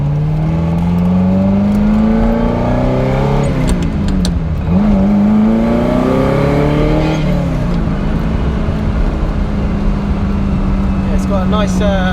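A red InfluEnzo Ferrari replica car engine revs up loudly through second gear on back lanes, pitch climbing, dropping at the shift and climbing again in a sustained, close roar.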